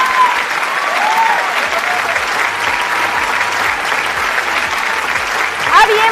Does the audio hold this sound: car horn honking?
no